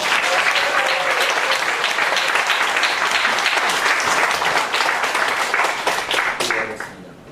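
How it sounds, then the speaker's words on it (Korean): Loud, sustained applause from a church congregation at a Friday worship service, dense clapping that holds steady for several seconds and then fades out at the end. "박수로 목사님을 환영하겠습니다"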